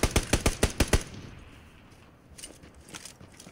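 Automatic gunfire in PUBG Battlegrounds: a rapid burst of about eight loud, evenly spaced shots, followed by fainter, scattered distant shots over low background noise.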